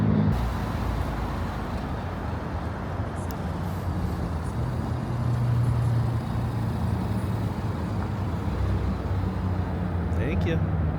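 Two Nissan Skyline R34s and a Toyota pulling into a Friday night car meet at Daikoku, a close, steady engine and road drone that swells slightly midway, with someone talking over it.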